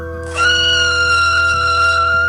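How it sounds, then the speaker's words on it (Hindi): A man screams in fright as a story sound effect, a sudden loud, sustained cry that starts abruptly and holds steady to the end. "वो डर के मारे चिल्लाया"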